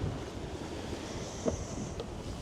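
Wind and waves on a sailboat sailing rough, choiceful seas toward Sainte-Anne, a steady rushing wash and buffeting wind noise, with a couple of brief splashes or knocks.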